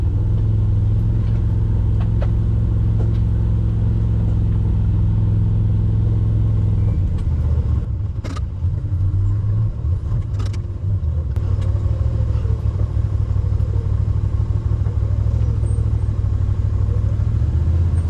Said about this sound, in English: I am full brake sliding down the hill